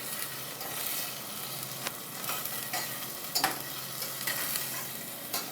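A seasoned tomato mixture is stirred in a hot pan, with a steady sizzle and frying hiss broken by occasional scraping and clacking strokes of the utensil, close and alone.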